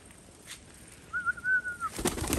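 Syrian (Shami) pigeons in a loft, with a single soft tonal coo-like call near the middle over quiet background, followed by a burst of rustling or fluttering at the end.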